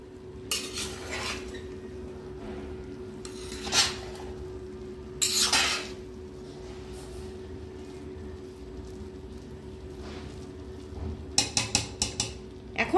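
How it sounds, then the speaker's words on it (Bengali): A spoon stirs Basanti pulao rice in a pot, giving several separate scraping and clinking strokes against a low steady hum, with a quick burst of clatter near the end. "এবারে আবার একটুখানি নাড়াচাড়া করে দেবো নিচ থেকে, যাতে নিচে কামড়ে না ধরে।"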